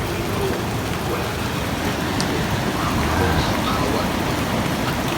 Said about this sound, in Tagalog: dito tayo, nagpasilong muna tayo, ulan na naman